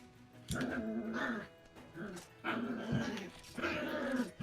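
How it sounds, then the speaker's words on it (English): A nearby dog growls and barks in agitated bursts, rising and falling several times over a few seconds. "I hear your dog's going nuts, homie."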